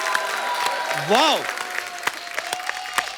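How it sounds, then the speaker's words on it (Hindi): A studio audience at The Kapil Sharma Show claps loudly and continuously to welcome actor Govinda, with a voice briefly exclaiming over the applause. "एक बार जोरदार तालियां हो जाएं गोविंदा सर के लिए।"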